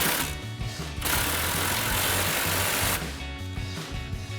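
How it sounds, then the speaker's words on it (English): An impact wrench with a 21mm socket tightens a suspension nut on a Ram 1500 during a lift kit install, a loud continuous buzzing rattle lasting about two seconds, with a shorter whirring burst just before and after. "So I have my impact and 21mm socket for the head, and our 15/16 wrench for the nut. Tighten that down."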